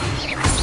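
A Levioso levitation spell cast in the Hogwarts Legacy video game, a brief whooshing magical burst that swells into a short crash-like hit near its end.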